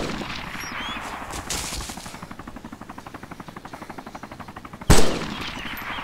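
Gunfire in a shooter video game: a fast, steady burst of automatic fire rattles for several seconds and is followed by one sharp, loud single shot, with no voices over it.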